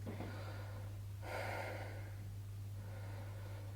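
Audible breaths during a mat Pilates stretch: a soft inhale, then a stronger airy exhale, then a fainter breath, all close over a steady low hum.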